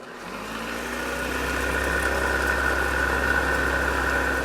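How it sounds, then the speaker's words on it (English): A kitchen blender whirs steadily while butter is blended slowly into hollandaise, its motor building from a low start into a loud, constant hum with a faint mechanical whine, no voices. "I'm going to start the blender and blend in the rest of the butter really slow."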